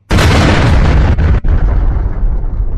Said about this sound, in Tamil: அந்த இடத்துல வெடிப்பு ஏற்படுது